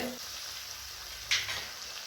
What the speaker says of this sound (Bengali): ঢাকনাটা খুলে আরেকবার ভালো করে নেড়ে দেবো। কষানো হচ্ছে।